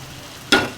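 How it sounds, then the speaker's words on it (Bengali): A sudden loud sizzle as meat hits hot spiced oil, a brief pause, then a second burst of crackling frying; otherwise near-silent. "মশলা ভাজা হয়ে গেছে তেলটা ছেড়ে দিয়েছে আমি দিয়ে দিলাম মাংস"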